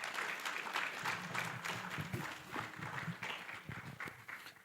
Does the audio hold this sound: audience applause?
yes